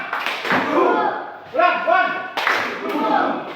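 A teacher leads a classroom clap ice-breaker: short bursts of group hand clapping in rhythmic patterns, broken by brief pauses, with counting voices and talk around it.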